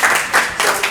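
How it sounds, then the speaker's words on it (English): Audience applause following a speaker's introduction at a community forum, a short burst of fairly loud clapping that swells, dips and picks up again. "Let's give a big round of applause for Will."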